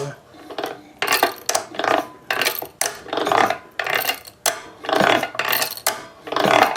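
A wrench works on bolts on a Maytag 72 engine, making a rapid series of metallic ratcheting clicks in repeated short bursts, close and fairly loud, with no talking.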